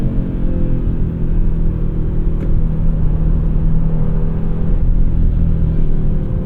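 A 2024 Audi RS3 all-wheel-drive sports sedan launching hard off the line, its engine a loud, steady low roar and road rumble throughout, heard from inside the car with no talking.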